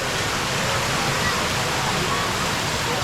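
Small waterfall at a roadside falls, a steady broadband rush of falling water filling the scene continuously and fairly loud, with no voices.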